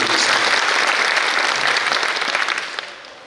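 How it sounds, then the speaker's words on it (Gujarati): An audience at a Shrimad Bhagavat Katha in Vrindavan breaks into loud, dense applause that holds steady, then thins out and fades over the final second. "પહેલા તો એના માટે તાળીઓ."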